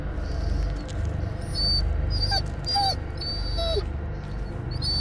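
A wounded dog being carried in the horror game Blair Witch whimpers in several high, thin whines over a loud, constant low rumble of footsteps and ambience.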